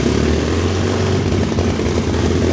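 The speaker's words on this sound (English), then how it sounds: "P-51. is firing up the Mustang over here." A P-51 Mustang's piston aircraft engine runs at an airbase, a loud continuous rumbling roar with steady throbbing that fills the whole stretch without pause.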